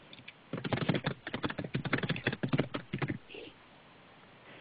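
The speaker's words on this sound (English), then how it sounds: "That would be too funny if that typing was Cliff." Rapid clattering keystrokes on a computer keyboard during an online conference call, close and fairly loud, coming in uneven bursts for about three seconds before stopping.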